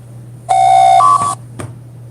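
A phone's notification chime plays alone: a bright electronic tone holding for under a second, stepping up to a second, higher note, then ending with a short click.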